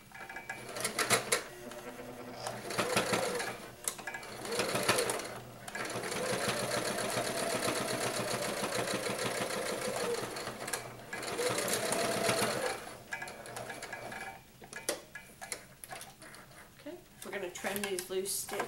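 A sewing machine stitches a fabric pocket face mask in several bursts of rapid mechanical whirring, close and steady, with pauses between runs where handling noises and a voice speaking can be heard.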